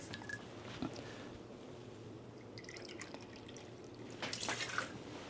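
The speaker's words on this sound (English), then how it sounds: "We're going to then follow up with 2 ounces Highclere Castle gin." Highclere Castle gin trickles and drips into a cocktail glass, a faint, close liquid pour that grows briefly louder toward the end, with no talking.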